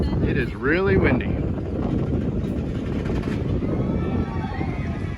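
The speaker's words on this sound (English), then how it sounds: "It is really windy." Strong wind buffets the microphone at the Universal Studios theme park, a loud continuous roar with gusty swells. A faint whistling tone rises briefly near the start.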